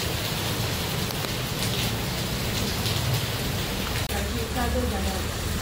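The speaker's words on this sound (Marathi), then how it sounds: "पाऊस कंटिन्यू आहे" Steady, continuous rain falling outdoors, a dense, even hiss that holds at the same loudness throughout with no break.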